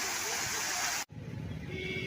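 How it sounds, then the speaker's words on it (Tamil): Waterfall at Kolli Hills gives a steady, dense rushing roar, cut by a sharp break about halfway through, after which a softer, lower rushing continues. "இது பேர் வந்து நம்ம அருவின்னு சொல்லுவாங்க."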